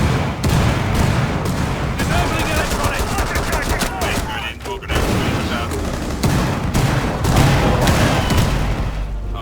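Gunfire and grenade blasts in the video game Rainbow Six Siege, dense bursts of rapid shots and sharp booms in quick succession, loud and close, with brief gaps between volleys and voices mixed in.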